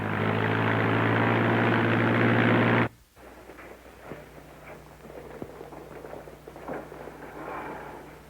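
An airplane engine and propeller roar loudly and steadily in a 1936 film, then cut off abruptly after about three seconds, leaving quieter crackling background with a faint hum.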